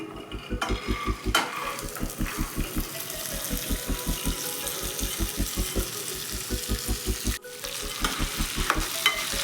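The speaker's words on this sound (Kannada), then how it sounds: "ಎಣ್ಣೆ ಬಿಸಿಯಾಗಿದೆ. ಇವಾಗ ಮೊಳಕೆ ಕಾಳು ಹಾಕೋತಾ ಇದ್ದೀನಿ." Sprouted moong and chickpea grains sizzle in hot oil inside a pressure cooker, with rapid rhythmic scraping from stirring over the hiss and a brief pause midway.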